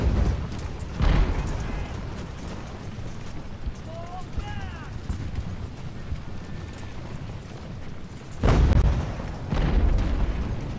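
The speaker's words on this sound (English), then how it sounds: "let the cannons do some of the job for me" Cannon fire in the naval-era strategy game Ultimate Admiral: Age of Sail during an assault on a town, heavy booms at the start and a cluster near the end over a rumbling battle bed, with someone talking.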